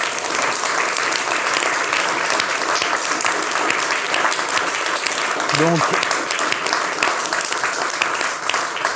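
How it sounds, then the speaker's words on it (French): A French talk-show studio audience claps for a departing guest. Dense, steady applause fills the whole stretch at an even level, and a brief voice speaks over it. "on peut vous applaudir"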